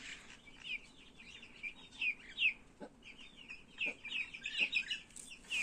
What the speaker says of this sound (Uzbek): Bu meni ikkinchi kul jo'jam.